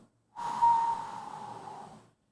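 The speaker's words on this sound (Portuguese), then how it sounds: "E agora você vai expirar," A long, forceful exhale through the nose or mouth during a diaphragmatic breathing exercise, with the abdomen drawing in. It comes as one steady breath of close, breathy air that swells quickly and then fades over nearly two seconds.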